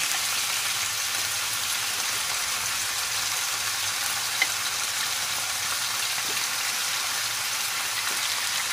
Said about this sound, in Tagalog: Maigisa muna yung chicken bago lagyan natin siya.